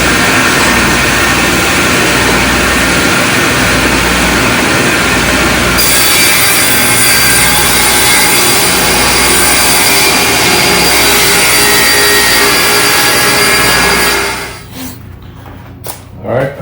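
A loud, steady table saw whine fills the space as it cuts wood, running continuously before winding down near the end.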